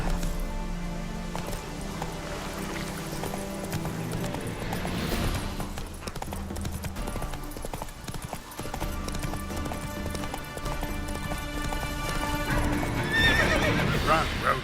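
A horse gallops in The Witcher 3 video game, with steady rapid hoofbeats and a whinny over a game music score that runs throughout.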